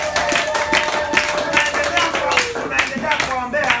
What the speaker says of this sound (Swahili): Hebu tupigie Bwana makofi makubwa kwa ajili yao